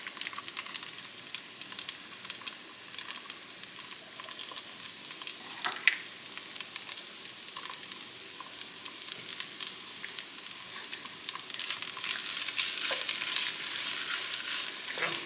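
A single egg cracked straight into garlicky fried rice sizzles and fries in hot oil, a steady close crackle with occasional stirring clinks, growing slightly louder toward the end.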